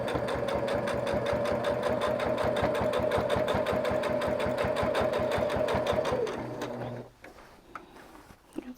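A sewing machine machine-quilts a batik boho throw, its needle hammering in a fast, steady rhythm close up for about six seconds before stopping, followed by faint handling noises.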